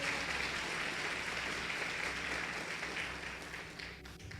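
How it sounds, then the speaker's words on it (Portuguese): A church congregation applauding at a traditionalist service, a steady wash of many hands clapping that fills the room and fades a little toward the end. "Você não vai aplaudir por uma mensagem dessa?"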